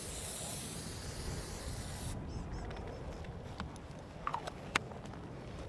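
A steady hiss of scent attractant sprayed from a bottle runs for about two seconds, then stops, leaving quiet outdoor ambience with a few faint clicks and rustles at a South Texas deer stand.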